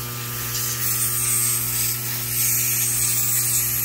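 Pressurized nitrogen hisses steadily from a blown-out brazed fitting in a refrigeration line during an isolation leak test, a loud continuous spray with a faint mechanical hum underneath.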